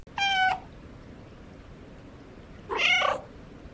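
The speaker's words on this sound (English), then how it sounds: "Did I mention the dedicated meow key?" Two distinct cat meows from the video game Stray, separated by a pause of about two seconds, clear and close against a quiet background.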